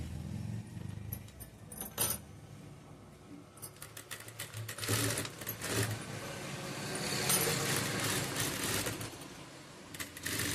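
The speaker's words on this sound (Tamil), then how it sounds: "இப்போ நம்ம இங்கே வந்து ஸ்ட்ரெயிட்டாக ஒரு தையல் போட்டுக்கலாம்" A sewing machine runs a straight seam in bursts of quick mechanical clatter, fairly faint and close, with short pauses and small handling clicks between the runs.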